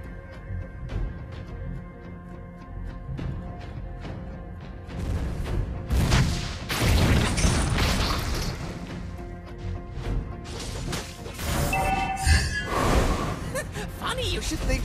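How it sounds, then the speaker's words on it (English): A Mobile Legends: Bang Bang match in which a turret comes under attack and is destroyed: loud crashes, impacts and bursts pile up in dense game audio, with an in-game voice speaking over the action. "Our turret has been destroyed."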